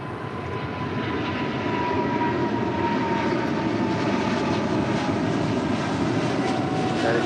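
A Boeing 767 jet on short final at LAX gives a loud, continuous broadband engine roar that holds steady for the whole stretch, with a faint tonal whine inside it.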